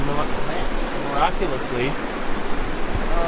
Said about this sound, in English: There's this waterfall here, which drains the lake I was just in, Cairngorm.